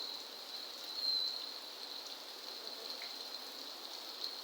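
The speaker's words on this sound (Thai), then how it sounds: "ฝนตกทุกคนเอ้ย" Steady rain falls in a continuous soft hiss with no clear gaps, fairly faint and even throughout, with no voices over it.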